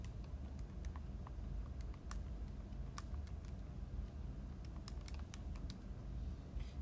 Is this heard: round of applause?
no